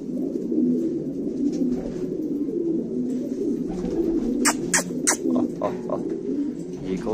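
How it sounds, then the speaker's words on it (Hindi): Fighter pigeons in a Quetta loft coo in a steady overlapping chorus, close and moderately loud, with a few sharp higher calls or squeaks near the end. "शरबती, और शरबती के पास ही सुरख कबूतर है।"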